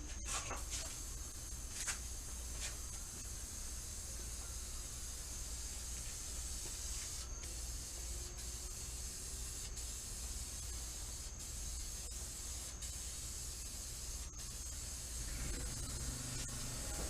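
Rattle-can clear coat sprayed onto a car fender: a continuous close, even hiss of aerosol spray running nearly unbroken, with a few faint clicks and brief pauses near the end.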